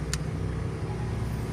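Kepu cordless drill overvolted on a 25 volt battery, running steadily with a loud, droning motor hum held for about a second and a half, preceded by a brief click, no talking.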